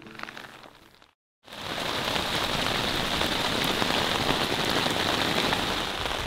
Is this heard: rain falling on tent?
yes